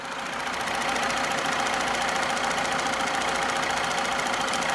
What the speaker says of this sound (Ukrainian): Отак от працює двигун.